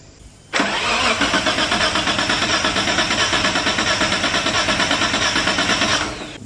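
A car engine cranks steadily for about six seconds during a compression test on cylinder one, a loud, close, rhythmic starter churn with no talk.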